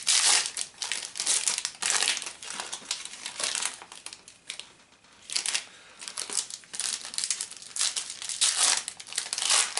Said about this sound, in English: So I'm just going to rip the packs, and then set them down.